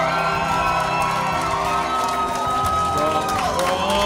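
A game show audience cheers and whoops loudly as a dense, steady crowd roar with shouting voices throughout, close and continuous.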